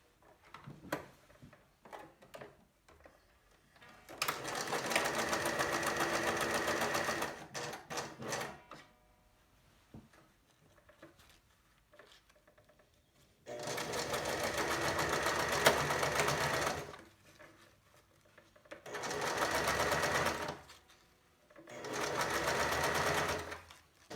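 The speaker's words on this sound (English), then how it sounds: "You want to sew for 2 inches, insert the mask, and then continue to sew." A sewing machine stitches a ribbon strap onto a fabric face mask, running in several long loud bursts of steady whirring with short pauses between them, with no talking over the motor.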